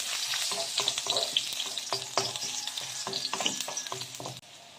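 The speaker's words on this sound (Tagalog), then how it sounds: "Mainit na po yung kawali natin, kaya lalagay na natin yung luya. At sumasaltik." Ginger dropped into hot oil in a frying pan sizzles and spatters loudly and close, with sharp pops and crackles and occasional stirring scrapes, no voices.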